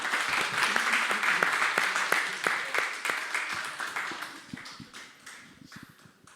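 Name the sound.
audience applause in church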